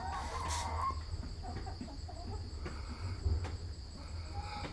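Chickens cluck softly and intermittently outdoors, with a constant insect chirr and low background rumble; fairly quiet, no talking.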